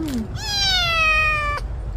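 An orphaned kitten gives one clear, drawn-out meow close by, with a shorter higher cry just before it, over a faint low background hum.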